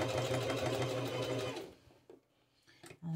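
A domestic sewing machine stitches fabric while covering a bra cup, running in a steady loud whir for about a second and a half, then stopping, with a few soft clicks and handling sounds after.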